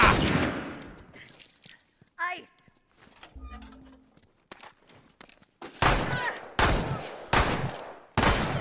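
Bursts of gunfire from The Last of Us in a combat scene, several loud broadband volleys in the second half after quieter scattered shots and game sounds, with speech heard nearby.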